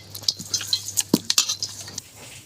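Chicken being worked by hand with salt and turmeric in a metal bowl or pot, giving a run of light irregular clinks and scrapes, fairly close and moderately quiet, with no talking.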